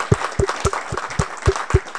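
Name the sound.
audience applause for a speaker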